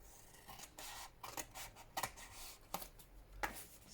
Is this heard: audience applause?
no